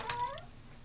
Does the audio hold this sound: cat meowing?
yes